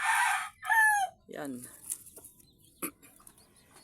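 Laying mother hens in a backyard coop cluck and squawk in several loud, close bursts, with a brief crow-like cry among them and a short spoken word in between.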